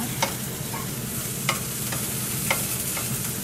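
Eel fries and sizzles steadily in a pan at dinner time, with a constant close hiss and three sharp scrapes of stirring at regular intervals, no talk.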